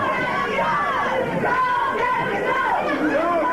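An arena crowd cheers and yells throughout a tag-team pro wrestling match, a dense steady roar under a commentator's excited talk.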